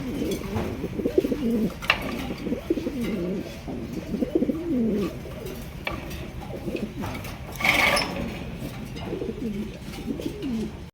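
A pair of Tiger feelback pigeons coo in repeated rolling phrases, close and clear, with a brief louder rustle partway through and no speech.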